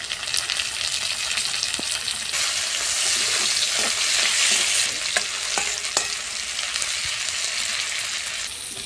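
Tomato pieces frying in a pan for pasta, a loud, steady sizzle broken by several spatula scrapes and light knocks as the pieces are stirred.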